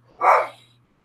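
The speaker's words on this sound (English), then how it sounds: "If you hear it, that is Tristan, my Jack Russell Terrier, barking in the background" A Jack Russell Terrier gives one short bark in the background, a single brief yap, moderately distant, over a faint steady hum.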